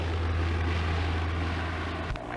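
A propeller airplane at the 1981 Farnborough Air Show gives a steady, loud droning engine hum with a strong low tone throughout, shifting slightly near the end, with no voices.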